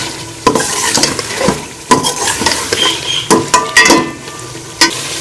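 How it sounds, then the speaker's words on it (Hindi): Chicken being fried and stirred with spices in a pot, a loud close sizzle punctuated by repeated sharp scrapes and clanks of a utensil against the pot in an uneven rhythm. "चिकन को अच्छी तरह से मसाले के साथ मैं चिकन को भून लूँगी।"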